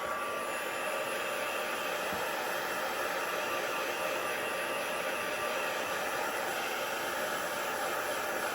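A heat tool blowing air to dry ink on a handmade card, a steady close whooshing hiss with an even hum, constant for several seconds with no pauses.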